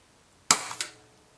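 A single sharp, close crack from a Weihrauch HW100 air rifle firing at a target, followed a moment later by a fainter snap. The shot stands alone against a quiet background.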